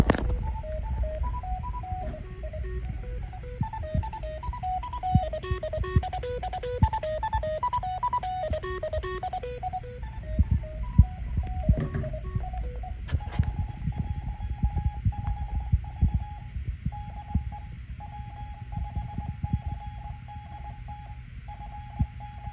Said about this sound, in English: It'll transmit battery voltage as well as music, and then it does an ID.